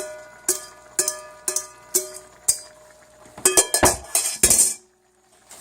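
Metal spoon clanging against a cooking pot as cooked lamb stew meat and bacon bits are scraped back in, first in evenly spaced ringing knocks, then a quicker cluster of clinks.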